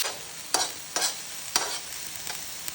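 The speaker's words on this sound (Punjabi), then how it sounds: "ਹਲਕਾ ਜਿਹਾ ਪਿਆਜ਼ ਤੇ ਟਮਾਟਰ ਨੂੰ ਪਕਾਵਾਂਗੇ" Onion, tomato and green chili frying with roasted cumin in a pan, a soft continuous sizzle punctuated by four or five sharp spoon scrapes at irregular intervals, close and fairly quiet, with no voices.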